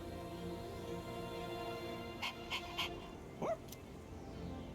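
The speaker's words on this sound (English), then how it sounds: "Can I pet him? Sure. Go on, Koro-chan. You know how to say hi, right?" A dog in the Persona 3 Reload video game lets out a few short yips followed by a rising whimper, fairly close, over quiet looping background music, with no talking.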